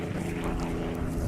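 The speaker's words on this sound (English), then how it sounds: "700 horsepower out of 6-cylinder air-cooled engines." Sport-class race planes roar past at the Reno Air Races, their 700-horsepower six-cylinder air-cooled engines making a loud continuous drone mixed with wind noise, with no voices.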